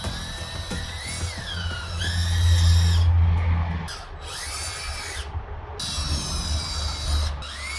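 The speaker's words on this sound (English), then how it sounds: "I'm gonna attach these with the screw to the boards" Power drill driving screws into picnic table boards, whining in spurts that rise and fall in pitch as each screw seats, with short pauses between runs, close and loud.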